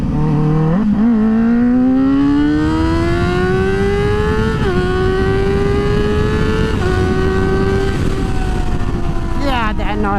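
A Kawasaki motorcycle is ridden on the street, its engine wailing close and loud as the pitch climbs steadily through the revs. The pitch drops briefly at each gear change, and wind noise roars underneath.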